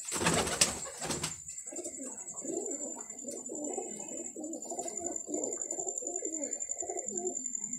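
Pigeons cooing steadily in repeated soft, throaty phrases, close by, after a couple of brief louder rustling bursts at the start; a faint high whine runs underneath.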